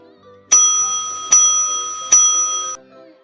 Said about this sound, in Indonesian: Bel tanda istirahat pun berbunyi.